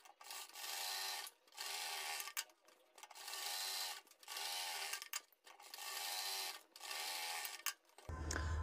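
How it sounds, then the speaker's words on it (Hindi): A sewing machine runs a straight seam on a kurti in several bursts of steady whirring stitching, each lasting about a second, separated by brief pauses and heard close and alone. "इसी के बराबर में 1/4 इंच का मार्जिन का देते हुए सीधी सिलाई फिर से लगा देंगे।"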